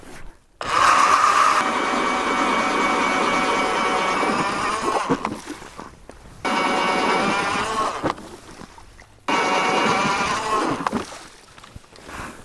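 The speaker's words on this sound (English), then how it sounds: "we've got 7 more holes drilled around here" A powered ice auger bores holes through frozen lake ice while ice fishing, sounding as three loud, close grinding bursts of motor and cutting noise, each several seconds long and separated by brief lulls.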